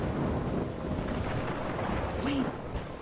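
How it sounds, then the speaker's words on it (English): Thunderstorm in the video game Life Is Strange: a steady roar of wind and rain with low rumbling, dense and continuous, with a faint brief tonal sound near the end. "I'm trapped in a storm?"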